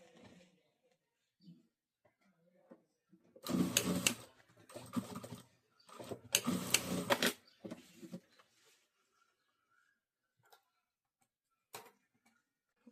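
A home sewing machine stitching the side seam of a fabric triangle samosa bag, with two short, quiet bursts of rapid mechanical clicking separated by a pause and a few faint ticks afterward.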